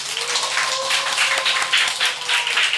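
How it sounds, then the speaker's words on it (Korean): A church congregation claps together in a brief, steady burst of applause, dense and fairly loud, with no voices standing out. "우리 이분들에게 큰 박수를"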